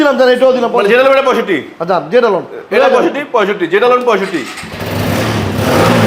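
Someone talks for several seconds before a used RTR motorcycle engine cranks and catches, settling into a steady, rough mid-pitched idle near the listener.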